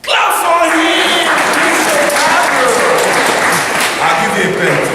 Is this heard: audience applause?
yes